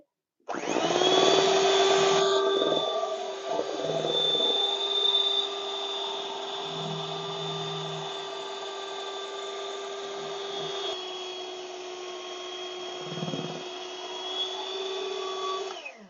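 An electric mixer beats cake batter with a steady high motor whine; the pitch drops a little after the first couple of seconds and then holds nearly constant to the end.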